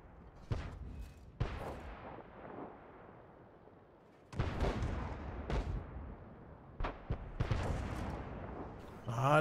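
Heavy tank cannon shots from a Grille self-propelled gun in a tank video game, several sharp booming blasts with rumbling tails spread across the stretch, a few sharper pops among them, with no talk over them.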